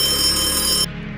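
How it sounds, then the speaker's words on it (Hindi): A telephone bell rings loudly and continuously in a police station, then cuts off abruptly near the end, leaving a low hum. "पुलिस स्टेशन के शांत माहौल में एक फोन की घंटी ने हलचल मचा दी।"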